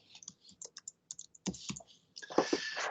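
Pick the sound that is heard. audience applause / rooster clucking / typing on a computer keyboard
typing on a computer keyboard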